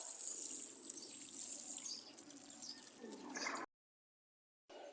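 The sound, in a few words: watering newly planted seedlings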